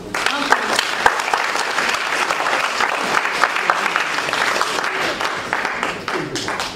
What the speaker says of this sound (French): un tonnerre d'applaudissements pour M.